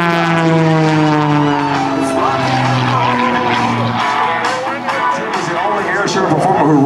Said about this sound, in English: He's backing up in excess of 100 mile an hour backwards with that Geico Extra 300.